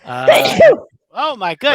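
A person sneezes loudly at close range, followed by short vocal exclamations and murmured talk in a casual indoor setting.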